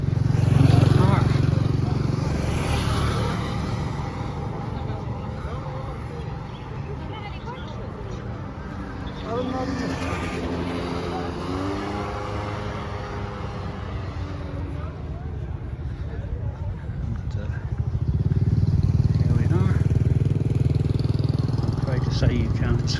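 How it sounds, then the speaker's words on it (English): Motorbikes running through a paved pedestrian park in Marrakesh, a steady low engine drone that swells louder at the start and again near the end as bikes pass close, with a voice talking through the middle. "Even in here, where people walk, motorbikes will be ridden."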